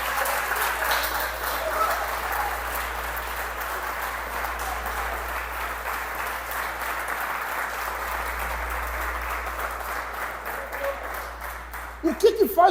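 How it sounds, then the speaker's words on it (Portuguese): A church congregation applauding for Jesus, sustained crowd clapping that stays even for several seconds and then tapers, ending in a few closer, louder knocks. "Dá um aplauso a Jesus"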